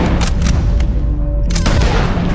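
Rapid gunfire in the video game Red Dead Redemption 2, a loud close burst of several sharp booming shots in quick succession over a dense rumbling background.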